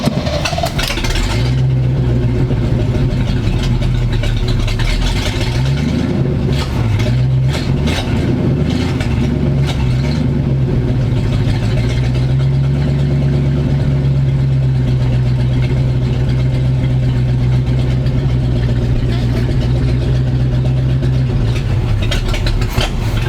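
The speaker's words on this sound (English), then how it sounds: "If I give it a little gas, it'll stay running." A big block engine in a Chevrolet square body truck that sat abandoned for about 20 years runs steadily with a loud, close, rough idle, rising in a couple of revs early on before settling into a sustained run, with no talk.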